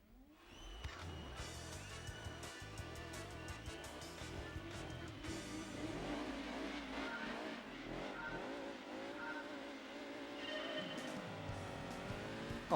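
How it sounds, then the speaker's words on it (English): A turbocharged car in the PlayStation video game Gran Turismo 2 revs and races, its engine climbing and falling in pitch with tire squeal over a steady, continuous roar, close and alone without talk. "we do want to get some happy turbo noises going"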